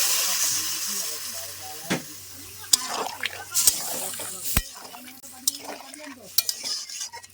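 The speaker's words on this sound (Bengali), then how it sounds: "সবজিগুলো ভাজা হয়ে গেছে এবার আমি সামান্য পরিমাপে জল দিয়ে দিচ্ছি" Water poured into a hot pan of fried cauliflower and eggplant raises a hissing burst of steam, followed by scattered clatters and stirring sounds, with a voice talking faintly in places.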